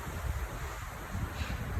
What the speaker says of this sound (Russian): И опять начинается ветер ночью.